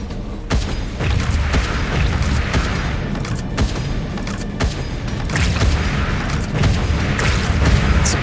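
Bomb thrower explosions in the Wall World video game: repeated loud, booming blasts at an irregular, rapid pace, one after another with no break, without speech.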